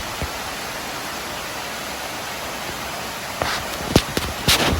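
A forest waterfall pours water straight down in a constant, broad rushing hiss, with a few sharp knocks and footstep-like thuds toward the end over the steady flow.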